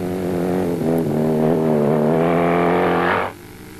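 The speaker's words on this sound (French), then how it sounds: "La moto chasse dans le sable mou" A Cagiva rally motorcycle of the 1985 Elf Ligier Cagiva effort slides through soft sand, its engine a loud, steady harmonic drone that climbs slightly in pitch before cutting off abruptly near the end.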